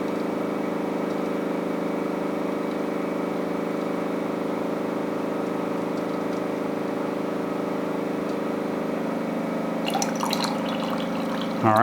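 A Storm water cooler's hot dispenser releases a steady stream of water, a continuous even flow over a constant hum, ending with a brief clatter.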